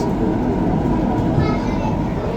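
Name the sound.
Ahmedabad metro train running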